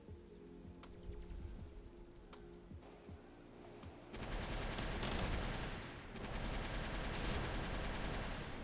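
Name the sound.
rocket barrage firing in video game Palworld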